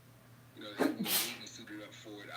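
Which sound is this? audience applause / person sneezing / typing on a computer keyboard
person sneezing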